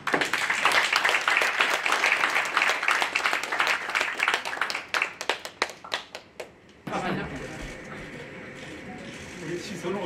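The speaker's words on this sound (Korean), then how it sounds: "다시 한번 감사의 큰 박수를 보내드립니다" Audience applause at a lawyers' association anniversary ceremony, brisk clapping from a crowd that thins into scattered individual claps before giving way to a quieter room with murmuring voices.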